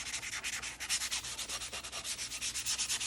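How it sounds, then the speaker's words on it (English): Short, rhythmic back-and-forth rubbing as sandpaper lightly scuffs a vintage Craftsman socket, a steady run of close, soft hissing strokes with no talking. "by sanding it a little bit, it will come out really nice"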